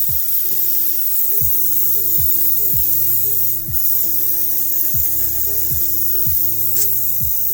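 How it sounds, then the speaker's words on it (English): An airbrush sprays paint onto a miniature crashed X-Wing scenery model, a steady airy hiss with a low, regularly pulsing compressor hum under it, continuous and close, with no talking. "It's gonna be so hard to pinpoint where you're trying to keep the nozzle of the airbrush."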